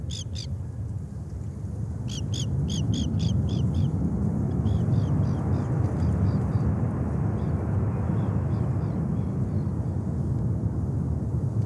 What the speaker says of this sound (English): Avianca Cargo A330-200 freighter, 11 years old, from San Salvador.